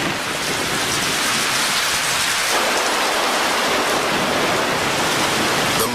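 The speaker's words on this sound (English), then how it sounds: "The monsoons of the Western Ghats are legendary, dropping almost 9 meters of rain annually in some places." Heavy monsoon rain in the Western Ghats pours down in a dense, loud, unbroken roar, with no voices.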